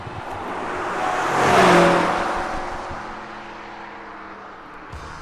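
A BMW M5 F90 with a 4.4-litre twin-turbo V8 accelerates hard, the engine roar swelling to a peak and then easing into a steady, sustained drive, heard fairly close.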